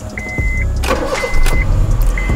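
Close and loud, a used car's engine cranks briefly and then catches, settling into a steady idle.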